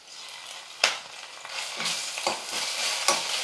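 Onions with ginger-garlic paste sizzling in a pan while a spoon scrapes and stirs, giving sharp clatters over a soft, steady frying hiss, close and fairly quiet with no voices.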